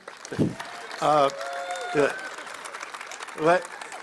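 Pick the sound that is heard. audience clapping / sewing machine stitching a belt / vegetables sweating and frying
audience clapping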